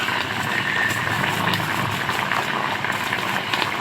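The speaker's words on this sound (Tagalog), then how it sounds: "Yan, kumukulo na rin naman" A thick coconut milk stew with tilapia bubbles and simmers steadily up close, a continuous busy popping and gurgling.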